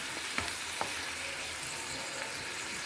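Ceylon spinach leaves fry and are stirred in a pan, giving a steady close sizzle with a few soft spatula scrapes and knocks against the metal.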